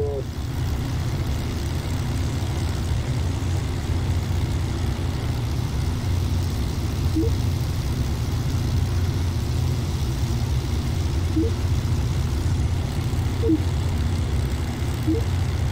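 Escort fighter planes in the Bomber Crew video game give a constant low, buzzing engine drone that holds loud and steady with little change throughout.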